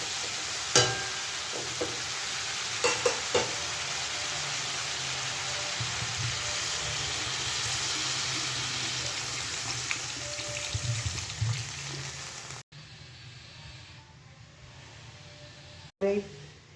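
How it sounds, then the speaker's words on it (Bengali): Koi fish and water go into a pan of spices frying in oil, making a constant sizzle with a few sharp clinks and splashes, then the sound drops abruptly near the end. "মশলা কষে নিয়েছি এবার মাছ দিয়ে জল দিয়ে দেবো"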